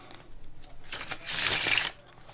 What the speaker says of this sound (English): Now, you can do a bridge with this shuffle as well.